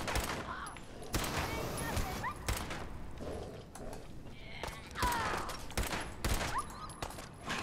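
Gunfire in Fallout 4 survival mode while clearing Corvega: a string of sharp shots, some in quick bursts and others spaced apart, with mechanical clicks and creaks between them.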